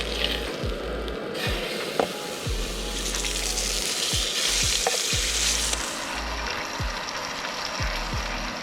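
Smashed fish pan-frying in a hot pan, a steady crackling sizzle close by with occasional spatula taps and brief watery spits rising and falling throughout.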